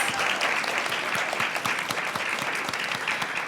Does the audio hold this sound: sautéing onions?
no